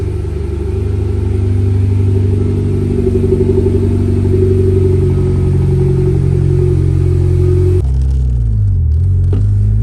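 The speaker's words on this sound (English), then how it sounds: "Crazy loud, but it is a little bit loud, the cold start." A Mitsubishi Evo X engine on cold start idles loudly through an open dump and titanium exhaust, with a deep, throaty rumble that holds steady, then drops lower and rougher near the end.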